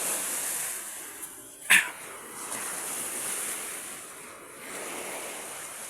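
Steady wash of fairly gentle ocean waves against a seawall, with a brief sharp splash and light wind noise.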